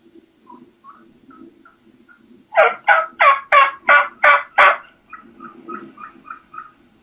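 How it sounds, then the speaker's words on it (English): Wild turkey hens in western country giving soft, high, flute-like kee calls, interrupted by a burst of about seven loud, rapid, raspy turkey calls close by before the faint high notes resume. "you can hear that hen just out there. So it's high, very, very high pitched, almost, flute-like or almost songbird-like"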